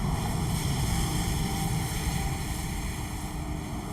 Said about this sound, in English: It's American Airlines Embraer. United Airlines Embraer taxiing out as well.